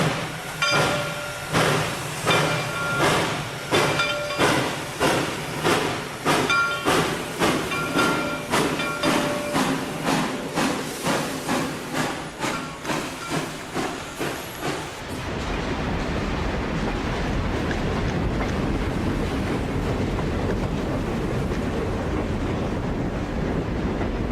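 Train 407 of the Elk Valley line pulling away on a Snow Ball Express run, a rhythmic series of loud chuffs for about fifteen seconds that gives way to a steady roaring hiss, with no talk.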